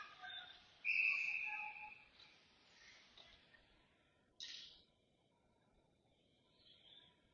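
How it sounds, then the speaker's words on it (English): During an under-18 ice hockey game, a referee gives a sharp, shrill whistle blast, with a shorter faint chirp a few seconds later over quiet rink ambience. "refs blow the whistle"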